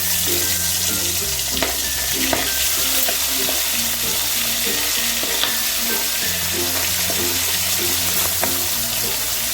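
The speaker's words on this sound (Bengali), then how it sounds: "এবার আমি মাছগুলোকে ভেজে নেবো" Steady, loud sizzling of fish frying in hot mustard oil fills the whole stretch, with occasional soft clicks and stirring sounds underneath.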